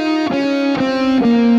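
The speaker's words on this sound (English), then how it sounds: "If you play distortion totally without vibrato," An electric guitar plays through distortion without vibrato: three loud, buzzy, sustained notes follow one another with flat, unwavering pitch and no talking.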